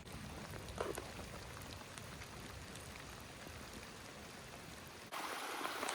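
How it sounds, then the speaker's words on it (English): A small stream flows at night while light rain falls, a steady soft wash of water with faint pattering drops, even and moderately quiet, brightening slightly near the end. "So here's that stream"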